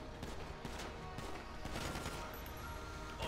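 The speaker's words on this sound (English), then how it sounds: "Who's shooting us?" Video game gunfire crackles as a dense, continuous fusillade of overlapping shots for about three seconds, fairly quiet and steady, with no talk.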